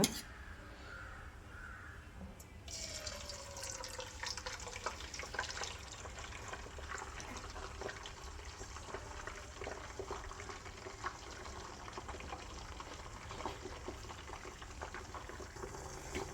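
An egg drops into hot oil and fries with a dense, crackling sizzle that starts abruptly and continues steadily, preceded by a couple of faint crow caws in the background.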